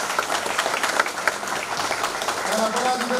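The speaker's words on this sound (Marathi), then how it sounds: "एकदा जोरदार टाळ्या तुमच्या लीडरसाठी होऊन जाऊ द्या" Audience at a business group meeting clapping for their leader, a steady mid-distance round of applause with voices mixed in as the clapping goes on.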